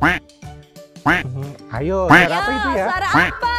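A duck quacks repeatedly in a children's animal-sound guessing game, loud nasal calls in quick bursts, with a presenter's voice asking questions between and over them.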